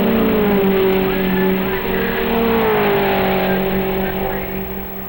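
Porsche race cars at the 1959 Road America SCCA national races, loud sustained engine drone with shifting pitch as the cars pass close by.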